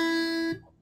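A single plucked note on the high top string of a guitar rings clearly and sustains for about half a second before being cut off, with a quieter low thud after.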